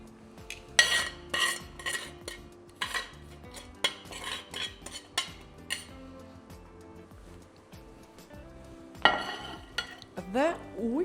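Meat for ossobuco lands in a well-heated pot, with a series of clinks and scrapes of utensils against cookware and a soft sizzle beneath, followed by louder clattering near the end.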